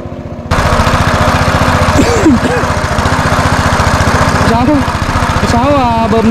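A motor water pump runs loud and close with a steady rapid chugging throb, pumping water into a gap in the soil outdoors while people talk over it.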